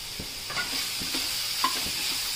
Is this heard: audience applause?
no